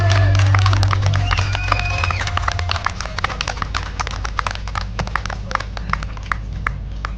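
An audience at a speaking event gives a round of applause, clapping sharply and loudly at first, then tapering into scattered, sparser claps.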